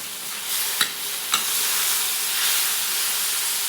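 Green onion leaves are stir-fried in a pan for chicken sotanghon, giving a steady loud sizzle with a couple of brief utensil scrapes early on.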